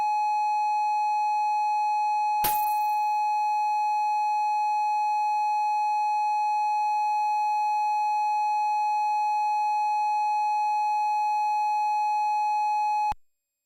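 A steady electronic beep tone from a record on the Victrola in the Commodore 64 Maniac Mansion game holds unbroken for about thirteen seconds, with one short click partway through, then cuts off.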